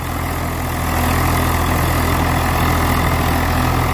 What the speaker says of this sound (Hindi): भाई चाल बढ़ गई ट्रैक्टर की,